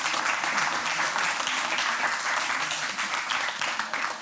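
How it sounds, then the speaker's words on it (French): Sustained audience applause for Pierre after a lecture on tax calculation, many hands clapping in a steady, fairly close wash with no pauses. "On peut applaudir Pierre."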